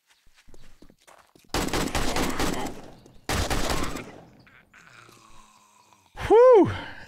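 Automatic gunfire in the 7 Days to Die A18 video game: two long, loud rattling bursts, with quieter shuffling between them, then a sharp, loud wavering cry near the end.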